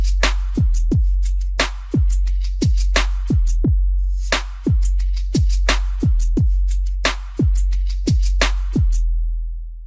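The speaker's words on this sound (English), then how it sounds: "you'll hear a great example of a tight and dialed-in EDM 808" Tight, dialed-in EDM 808 bass made in the Kick 2 plugin, booming in a punchy rhythmic pattern of short, deep hits with clicky attacks, loud and close, with no talking.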